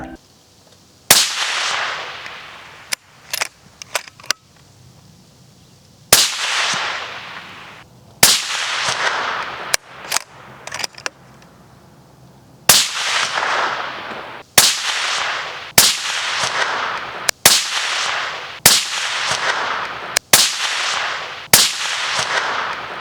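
Suppressed rifle gunshots fired through Q Blind Tiger and Speakeasy suppressors, including subsonic rounds, at an outdoor range: a dozen or so sharp cracks, single and in quick pairs, each with a ringing downrange tail, with no talking.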